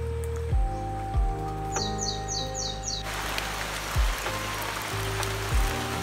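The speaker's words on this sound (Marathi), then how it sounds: "आता आपण घरी आलो आहोत आणि पुन्हा पावसाला सुरुवात झाली आहे" Rain sets in at a home in Chiveli near Chiplun in Konkan, a steady broadband hiss that begins midway and continues, with crows cawing close by and no one speaking.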